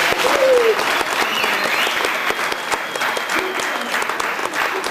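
A crowd applauding at a biography event for a Zambian musician, loud sustained clapping with many sharp individual claps, close and dense across the whole stretch.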